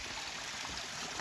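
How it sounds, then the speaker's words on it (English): A small stream runs at a water source along the Appalachian Trail, a soft, steady trickle and gurgle heard faintly and alone for a brief moment. "this place had a really excellent water source, as you can see."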